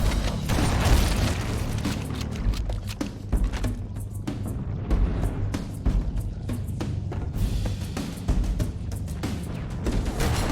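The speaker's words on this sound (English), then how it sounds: "That should be enough to trigger a wildcat explosion of the engines." Ship engine reactors explode in Halo CE, a dense continuous rumble of booms and crackling bursts, loud and sustained with repeated sharp blasts over a deep roar.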